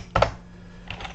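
A few close keystrokes on a computer keyboard: a quick double tap, then a couple of fainter clicks after a pause.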